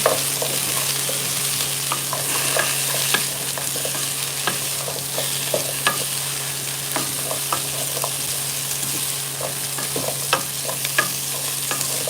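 Pumpkin is stirred in a cooking pan, with a steady sizzle of frying under repeated scraping and clacking of the utensil against the pan, close and continuous with no talking.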